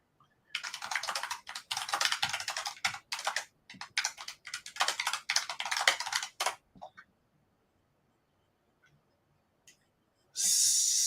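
Rapid typing on a computer keyboard, close and crisp, runs in dense bursts for several seconds and then stops. A brief loud burst of noise follows near the end.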